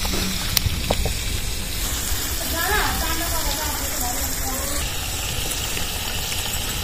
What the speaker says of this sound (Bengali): লাউ ছুলে নেওয়ার পরে ভালোভাবে ধুয়ে নেবা।